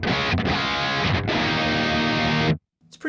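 Heavily overdriven electric guitar rings out dry and crunchy, with no reverb or delay, playing a sustained distorted chord that cuts off abruptly before another brief stab near the end.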